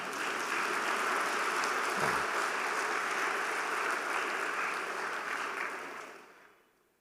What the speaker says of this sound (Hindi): मुझे कहना पड़ेगा, ताली बजानी चाहिए?